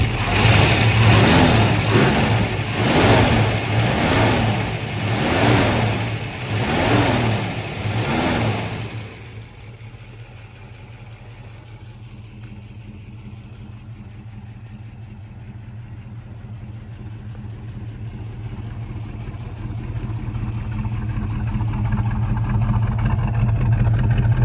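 A 1967 Shelby GT350 V8 with solid lifters, a dual point distributor and an aftermarket exhaust with aftermarket mufflers revs loudly in repeated rising bursts, then settles into a steady, lumpy idle with lifter chatter.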